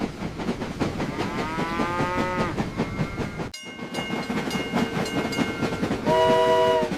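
Train passing with continuous rumble and clatter, sounding its horn in long tonal blasts that shift in pitch, a brief cut midway, then a loud horn blast near the end.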